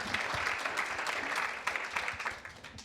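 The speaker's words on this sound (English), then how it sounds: "let's give a round of applause for all of our immigrants" Audience applause at a climate innovation panel during San Francisco Climate Week 2023, a steady wash of many hands clapping throughout, moderately loud and without talk.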